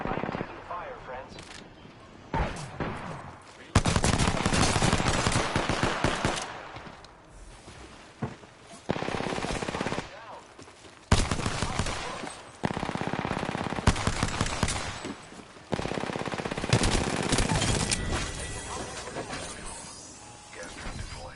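Bursts of automatic gunfire in the video game Apex Legends, loud and close, arriving in repeated clusters with short gaps, mixed with game effects and occasional voice lines.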